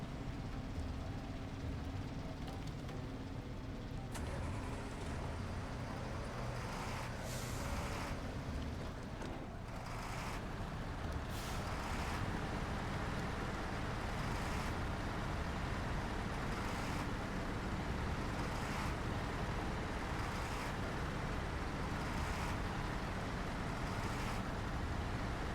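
Tatra FORCE T815-7 truck in a video game fording a river, its engine a continuous low rumble mixed with water wash, steady and moderately faint throughout with no talking.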